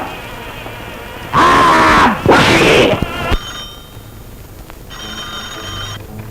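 A telephone rings in a classic Pakistani film scene, a loud electronic trill in two bursts followed by a fainter, buzzing ring tone, with no talk over it.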